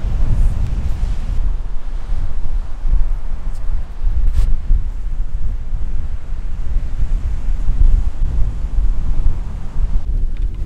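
Strong, constant wind buffeting the microphone on an island golf course, a loud roaring rumble with gusty surges for the whole stretch, no talking.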